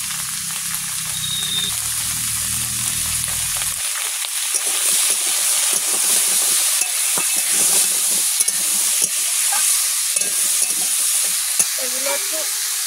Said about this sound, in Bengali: আস্তে আস্তে তরকারিগুলো সব ভেজে নেব।